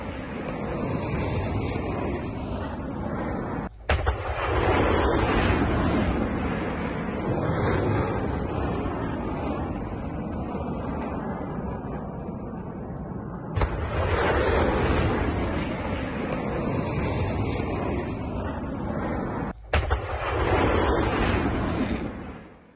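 Missile strike explosions in Sevastopol, Crimea, heard as sustained loud roaring blasts and rumbling bursts, with two abrupt cuts where the booming restarts and continues without voices.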